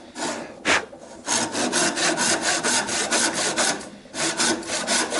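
A hand saw rasps rhythmically through wood, cutting a bridle joint, steady back-and-forth strokes close up with a brief pause partway through.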